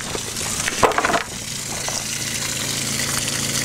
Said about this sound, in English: Whoops, I think we sprung a leak.